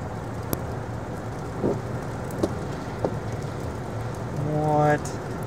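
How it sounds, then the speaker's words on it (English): Wind-driven snow and sleet pelt a car in a spring snowstorm in a Walmart parking lot, a steady close patter and rush with a few sharp knocks and a tonal whine near the end. "Friggin' 3D snowstorm coming right at you."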